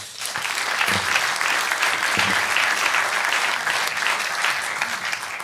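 A comedy roast audience applauds steadily, a dense wash of clapping that holds for several seconds and tapers slightly at the end.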